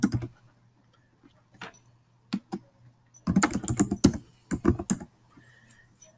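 Keys on a computer keyboard clack in short irregular bursts, light taps followed by a quick flurry of typing, close and clear over a faint steady hum, with no talking.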